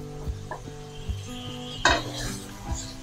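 Beef with ginger, garlic, coriander, turmeric and red chilli powder frying in a pot for haleem, with a low sizzle under repeated metal spoon scrapes and knocks against the pan, one sharper clank in the middle.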